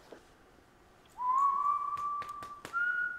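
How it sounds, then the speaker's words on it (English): A single creepy, sustained whistle from a scene in the TV show The Walking Dead, starting with an upward slide and holding one steady tone before stepping up near the end, alone against a quiet background. "what's with the creepy whistle?"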